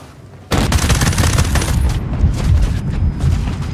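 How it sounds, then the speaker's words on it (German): A tank fires at the player in the video game Ghost Recon Breakpoint: loud, sustained gunfire and booming blasts that start abruptly and roll on in dense bursts, close and continuous, with no voices. "Jetzt schießt dieser scheiß Panzer schon wieder auf mich."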